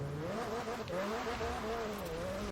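Car engine launching in Forza Horizon 4, a steady loud revving tone that wavers up and down with a slight tire squeal, close and continuous, ending abruptly.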